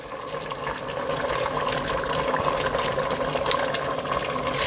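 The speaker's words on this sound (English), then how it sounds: "I'm going to add some water to the same turkey bowl because I want to get all the juice out of it" Water is poured into a bowl that held turkey, as part of making Bahamian lima bean soup: a steady, continuous splashing trickle at close range with no talking.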